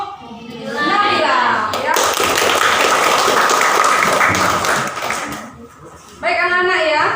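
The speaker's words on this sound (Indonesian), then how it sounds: "Bagus sekali, tepuk tangan untuk" Classroom applause for a student: a burst of hand clapping from children that fills most of the moment, with a teacher's voice speaking briefly before and after.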